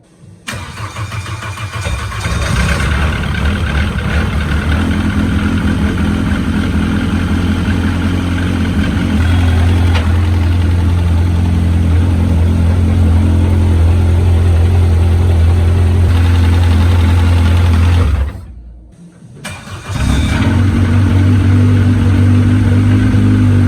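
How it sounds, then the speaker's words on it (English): A Vauxhall Cavalier GSi classic touring car with a dry-sump setup cranks and fires up, then runs at a loud, steady, close idle. The engine cuts out abruptly for a moment and restarts, settling back into its rumbling run. "We'll crank it over, get some oil pressure, and then we'll turn the fuel on to get it running."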